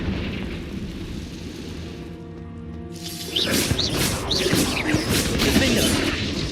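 A Confringo fire-blast spell cast in the Hogwarts Legacy video game, a loud burst of crackling, whooshing explosive energy swelling up midway and rumbling on with layered game effects.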